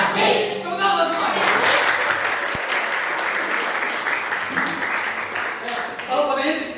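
Sustained applause from a school audience at the close of a vocational high school physics lesson, a dense even wash of clapping lasting several seconds, with voices faintly mixed in underneath.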